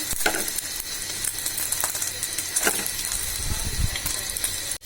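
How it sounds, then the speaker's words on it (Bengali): An egg fries in oil in a wok with a steady sizzle. Scraping and clicking from stirring or flipping breaks in several times, close and moderately loud. "ডিমটা আমার 2 পাশেই ভাজা হয়ে গেল।"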